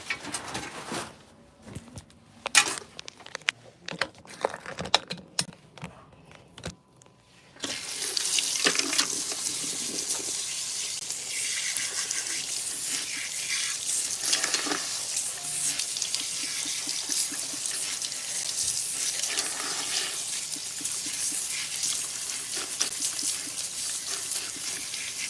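Water runs from a salon sink tap during a client's shampoo, first in sparse splashes and clatters, then a steady, close hiss of flowing water that continues without a break.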